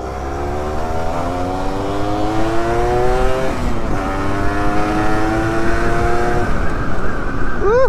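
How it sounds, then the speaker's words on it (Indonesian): A Yamaha V80 motorcycle fitted with a turbo accelerates hard on a test ride, its engine whine climbing steeply through repeated gear pulls, dropping briefly at each shift before rising again, loud and close with no talk. "kita gas-gasan bareng Yamaha V80-nya si Rizky ya"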